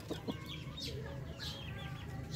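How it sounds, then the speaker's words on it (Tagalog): A rooster clucks a few short, soft notes in a farmyard, fairly faint under steady background noise, with other birds faintly around. "Yan, yan ating matikas na rooster na yan mga Pinoy."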